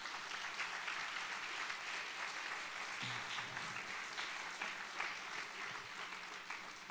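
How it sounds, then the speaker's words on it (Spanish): A church congregation stands and applauds loudly and steadily for the full stretch, a dense wash of many hands clapping with no break. "den un fuerte aplauso al Señor Jesús"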